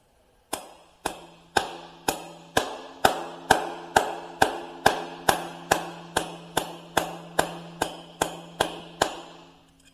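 A hammer taps bread into the pilot bushing of a 1964 Dodge D300 Sweptline engine to force the bushing out, about seventeen evenly spaced sharp metallic blows ringing close and clear.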